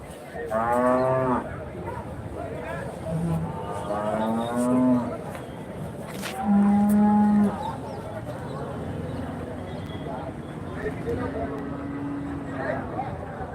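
Cattle lowing repeatedly at a rural cow market in Dharmapuri district, several loud drawn-out moos spaced across the scene, with people talking in the background throughout.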